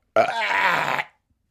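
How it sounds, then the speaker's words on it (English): A single long, loud, close burp from a person after eating a bagel, lasting about a second with a sharp onset and quick fade into silence. "I overdid it on that burp at the end"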